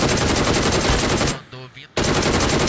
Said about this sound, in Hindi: बाहर एक बंदे को मैं मारता हूँ डीपी से